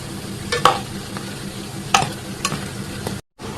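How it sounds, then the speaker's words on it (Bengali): A homemade sweet fries in oil with a continuous soft sizzle while being stirred and turned, with a few sharp scraping strokes standing out before a brief cut to silence. "এরকম নেড়ে চেড়ে উল্টো পাল্টো করে সবটি ভেজে নেব, একদম গাইস লালচে কালার করে ভেজে নেব"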